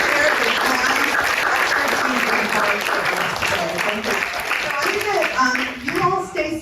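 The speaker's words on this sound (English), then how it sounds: "let's give the panel a warm applause" An audience applauds a panel at a talk on aging, with warm, steady clapping and a voice speaking over it before the clapping thins toward the end.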